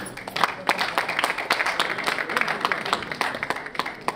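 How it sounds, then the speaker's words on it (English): An audience at an infrastructure investment conference applauds the Minister of Transport, a full steady round of clapping from many hands lasting throughout, with faint voices underneath. "Let's give him a round of applause."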